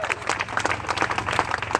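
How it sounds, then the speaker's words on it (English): An audience at an Artwalk event in Lewiston-Auburn claps and cheers in a short, lively burst of applause, with a few voices calling out over the dense, moderately close clapping. "let's give a round of applause to Auburn for being part of Artwalk as well"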